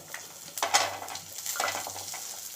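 Small shallots frying in a pan for a chickpea masala curry, a soft close sizzle broken by a few quick scraping stirs and light clinks of a spoon against the pan.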